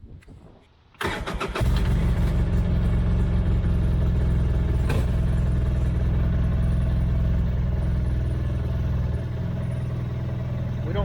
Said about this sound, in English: take it for a little ride, put some heat in the engine so that we can pull the oil out easier